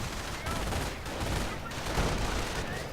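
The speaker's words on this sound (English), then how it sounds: "the Hellcat opening up with all guns blazing. 50 caliber also firing away" A Hellcat's .50 caliber machine gun fires in a World War II strategy game amid infantry battle, a dense, continuous rattle of rapid gunfire mixed with other weapons and explosions, loud and unbroken throughout.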